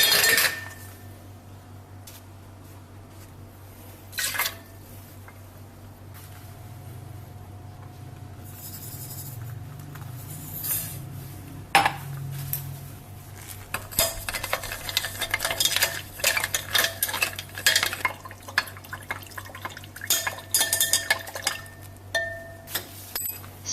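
A utensil stirs sodium hydroxide with ice and a little water in a container, producing repeated scraping and clinking of solid pieces, intermittent at first and then rapid and busy toward the end, close and fairly quiet.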